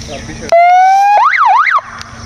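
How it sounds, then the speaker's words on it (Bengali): A Bajaj Pulsar 150 ABS 2024 motorcycle horn sounds once, a loud, close electronic tone that holds and then warbles up and down for about a second before stopping. "গাড়িটার সঙ্গে একটা রিমোট রয়েছে এবং এখানে কিন্তু হর্ন আছে"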